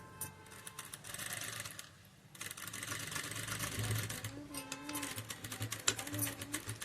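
A sewing machine runs a seam with lock stitches, whirring in rapid, close bursts that pause briefly near the start and then continue steadily.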